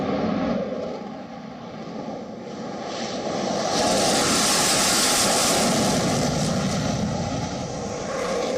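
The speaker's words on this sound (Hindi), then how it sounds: "रफाल लड़ाकू विमान" Rafale fighter jet flying, its loud engine roar swelling toward the middle and staying strong, a continuous broadband rush with no talk.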